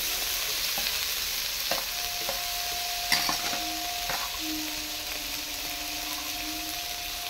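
Spice paste with chopped tomato and ginger fries in a pan with a constant bright sizzle, while a spoon scrapes and taps against the pan now and then.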